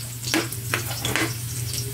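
Chopped onion drops into hot oil with golden garlic in a pan for adobong sitaw with pork, a close steady sizzle broken by a few sharp stirring scrapes and spatters.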